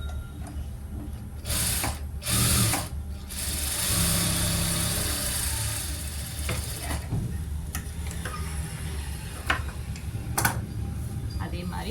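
Sewing machine stitching a fabric strip, a close mechanical whir and rapid ticking in bursts with pauses between runs.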